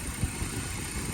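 The 150 hp engine of a BMW 120i idling, heard close as a steady low rumble and hum, with no talking.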